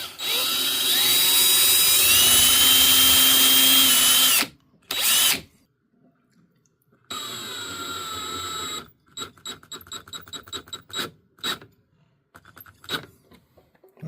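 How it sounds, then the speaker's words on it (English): A power drill bores a pilot hole for a screw in wood while a magnetic drawer catch is installed in a 2022 Rockwood Mini Lite RV, giving a steady whine for a few seconds, a short second burst, a longer run, then rapid stuttering pulses. "I'll drill another pilot hole for the screw so we don't crack the wood."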